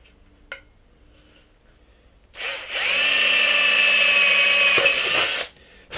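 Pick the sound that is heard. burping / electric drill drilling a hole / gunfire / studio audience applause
electric drill drilling a hole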